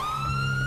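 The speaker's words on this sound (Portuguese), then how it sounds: "Você quer bater um sirene aí, se você conseguir?" A police siren wails in the video game GTA 5, a steady loud electronic tone held throughout a brief moment, close and prominent with no talk over it.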